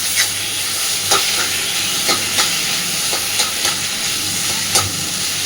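Mashed pumpkin with fried dried chillies is stir-fried in a pan, a loud, constant sizzle broken by regular scraping strokes of a spatula mixing it close by.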